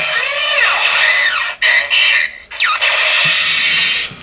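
A Kamen Rider Kabuto Zector toy plays its electronic Henshin transformation sound, with bright synthetic sweeping chirps and buzzing tones broken by brief dropouts, loud and close.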